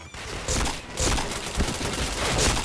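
Dense, rapid gunfire from a shooting video game during a run of headshots, with loud bursts of shots crackling continuously and close for the whole stretch.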